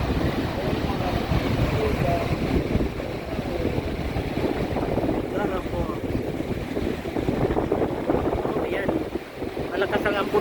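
Niagara Falls roars in a dense, constant rush of water, with gusty wind buffeting the microphone and faint voices from a crowd nearby.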